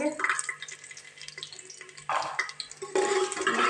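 Cumin seeds dropped into hot oil, a close crackling sizzle that starts partway through and rises in bursts, with a faint hum underneath.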